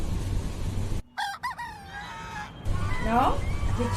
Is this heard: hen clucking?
yes